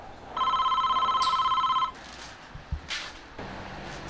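A telephone rings in a repeated electronic trill for about a second and a half, fairly loud and alone, then cuts off, followed by a few soft knocks and rustling noise in a quiet room.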